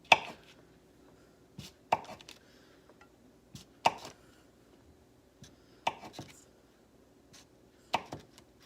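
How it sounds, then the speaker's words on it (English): A knife cuts a stick of butter into pats on a board, giving about six sharp, close taps spaced roughly two seconds apart, with quiet gaps between. "Now I'm gonna cut up a stick of butter and lay it on top"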